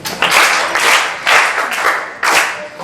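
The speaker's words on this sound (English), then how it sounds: "Can you clap for him?" A classroom of students claps for a classmate in short, loud bursts of several hands, with four or five surges that fade and restart.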